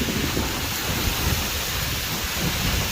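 Heavy rain during a windstorm in Dadyal pours down in a dense, constant roar with deep rumbling underneath, loud and unbroken throughout.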